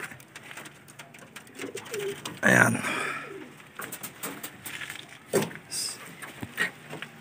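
Racing pigeons, including young birds, coo softly amid a busy background, with a louder bird call standing out briefly and faint talking nearby.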